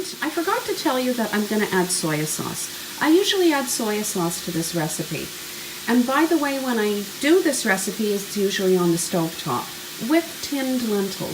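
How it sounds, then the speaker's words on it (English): Italian sausage browns in a frying pan on a stovetop, a steady sizzle running under continuous nearby talking. "you can hear the sausage browning in the background"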